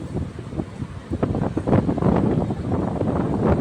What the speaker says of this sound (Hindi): और बहुत तेज़ हवा भी चल रहा था।